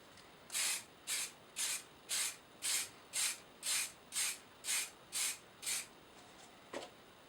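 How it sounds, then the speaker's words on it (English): Spray can coating a 3D printed torch part black, eleven short even hissing bursts in a steady rhythm, close and fairly quiet, followed by a faint click. "I planned on giving it a coat of spray black"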